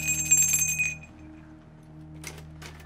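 A bell rings out at the start, its bright sustained tones fading over about a second, followed by a low steady hum with a brief clatter near the end.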